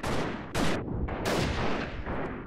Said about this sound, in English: What are they even shooting? Are they shooting RPGs?